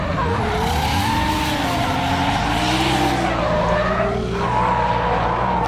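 A Nissan S13 drift car at a technical French championship track skids with a continuous loud tire squeal over a revving engine whose pitch rises and falls, with no voices.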